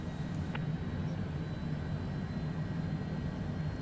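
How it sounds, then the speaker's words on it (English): Airliner-style jet engine in the Longitude flight simulator spools up at the gate before taxi out of Monterey, a steady low droning rumble with a constant hum, moderately loud and unbroken throughout. "Sounds like our left engine's spooling up nicely."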